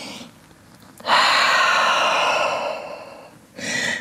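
A long, deep in-breath during a downward dog yoga pose, a steady airy rush swelling for a few seconds and then easing, with a shorter breath following at the end.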